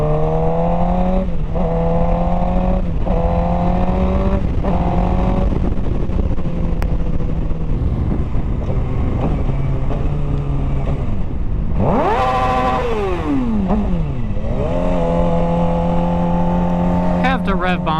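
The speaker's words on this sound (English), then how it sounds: "It's just like human nature to rev bomb under a tunnel or a bridge." Suzuki GSX-R 600 sport bike revving inside a tunnel, engine pitch repeatedly climbing and falling in sharp echoing pulls over a steady riding drone, loud and close, with a voice talking over it.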